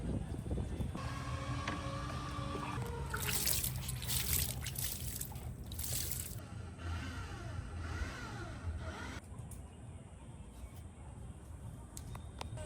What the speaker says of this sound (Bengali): সব গাছগুলো জল দিয়ে নিলাম